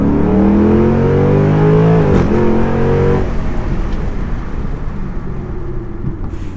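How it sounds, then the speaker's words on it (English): A 2006 Ford Mustang GT V8 engine with a JLT cold air intake and tune revs loudly with a deep, rising growl, then drops back to a rough, rumbling idle. "let me just get on throttle here so you guys can hear it."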